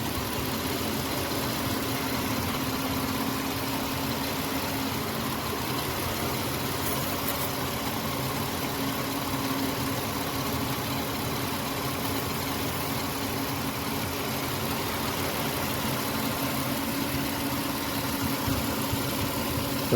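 A warmed-up 2002 Toyota Camry engine idles with the hood open, a steady, even hum running unchanged for twenty seconds at close range, with no voices.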